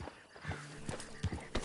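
Hoofbeats of a horse in a video game, a handful of soft, unevenly spaced clops at close range over a quiet background.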